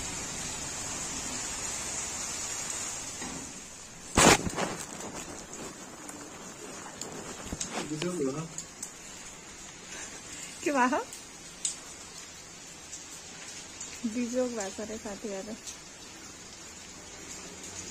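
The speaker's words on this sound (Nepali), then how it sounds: "तर आज एकदम ठुलो पानी परेछ" Heavy rain falls during the Dashain festival, a steady hiss of downpour under someone talking, with a sharp clatter early on.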